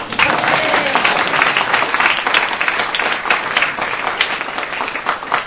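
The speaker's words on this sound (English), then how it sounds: "You can applaud that." Loud, sustained applause from a large crowd, dense clapping filling the space without a break, with some cheering mixed in.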